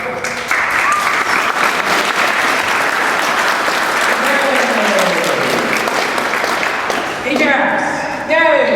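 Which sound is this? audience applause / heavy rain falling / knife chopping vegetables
audience applause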